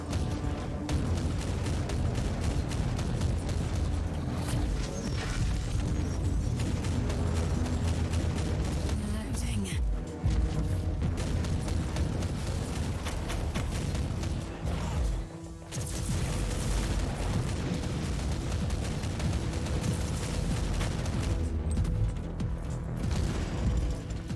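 Gunfire and explosions in the video game Warhammer 40k Inquisitor: Martyr, a dense, loud, continuous barrage of booms, crashes and bursts with brief drops near ten and fifteen seconds.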